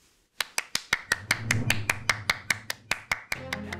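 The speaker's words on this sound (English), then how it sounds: "I ask all the graduates to give one more big cheer" Clapping at a college commencement ceremony, a run of about fifteen sharp, evenly spaced claps close to the microphone with no voices.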